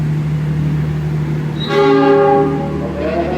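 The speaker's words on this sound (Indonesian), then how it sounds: "Kereta api Pangrango di jalur penumpang diberangkatkan ke arah Bogor Paledang" A Pangrango passenger train sounds its horn as it departs a station toward Bogor Paledang, a loud sustained multi-tone blast rising over the steady rumble of the train and platform noise.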